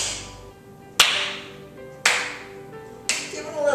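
Three sharp, evenly spaced hand claps ring out about a second apart during a senior fitness exercise class, each a crisp slap with a short decay over a quiet background.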